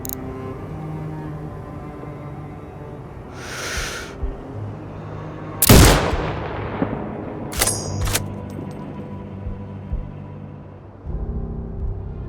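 A single sharp sniper rifle shot in Sniper: Ghost Warrior Contracts 2 training, a loud crack with a trailing decay against quiet ambient rumble, preceded and followed by faint game sounds.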